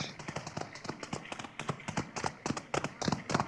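Horses' hooves clip-clop steadily in a classic western radio drama, a brisk rhythmic patter of several animals moving at a trot, fairly close and continuous, with faint voices in the background.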